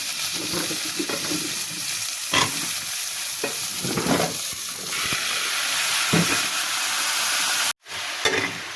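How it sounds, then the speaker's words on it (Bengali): Chopped bottle gourd fries in a wok in oil with green chillies, cumin and nigella seeds, giving a steady close sizzle and hiss, with repeated scrapes of stirring and a brief cut near the end. "তেল দিয়েছিলাম, তারপরে কাঁচামরিচ দিয়েছি, তারপরে জিরে, কালো জিরে দিয়েছি, দিয়ে আমার কেটে রাখা লাউগুলো দিয়ে দিলাম।"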